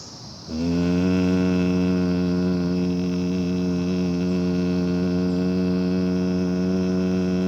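A steady, sustained human hum made while exhaling during Bhramari-style pranayama breathing rises after a brief quiet moment and holds evenly, close and loud, for the rest of the stretch.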